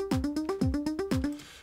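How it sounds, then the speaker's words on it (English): A drum pattern programmed in Cubase, with kick, clap and hi-hats, repeats in a steady loop of punchy, thumping kicks and tonal hits with ticking hats between them, loud and close with no talk. "And now the pattern sounds like this with the drums."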